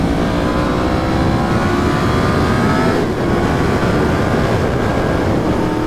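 A Yamaha FZ-10 motorcycle engine drones loud and steady while riding, a sustained rising rev with wind rush, no voices.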